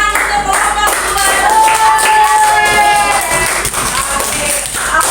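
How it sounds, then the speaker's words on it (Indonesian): Classroom applause for a student group, dense rapid clapping from many hands that stays loud and sustained throughout, with a few voices mixed in. "tepuk tangan untuk kelompok 2"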